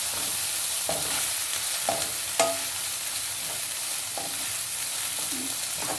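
Dried shrimp and tomato curry being stirred in a frying pan, Telangana style, with a steady soft sizzle and occasional scraping clinks of the spoon against the pan, no voices.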